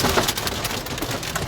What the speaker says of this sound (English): severe storms brought heavy rain to the area.